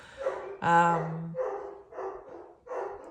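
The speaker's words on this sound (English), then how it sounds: "Hopefully my dogs will be quiet soon." A dog barks several times in a row close by, a deep first bark followed by four shorter, sharper ones at an uneven pace.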